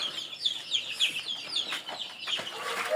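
Chickens clucking in a full poultry house, a dense chorus of overlapping clucks and squawks at steady moderate loudness throughout.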